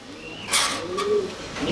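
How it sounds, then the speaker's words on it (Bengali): A fancy-breed pigeon cooing nearby, a couple of soft throaty rolling coos over faint background noise. "ও এই কবুতরই আমার ডাকতেছে"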